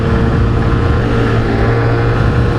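A 1982 Honda Squash 50 motorcycle's small engine revs up toward higher RPM in a steady, loud, continuous drone that holds throughout, with no talking over it.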